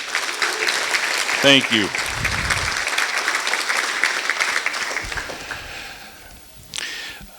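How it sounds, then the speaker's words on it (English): Audience applause at a county Republican fall fundraiser dinner, steady clapping that fades toward the end, with a voice speaking briefly amid it. "If we could give them a big round of applause."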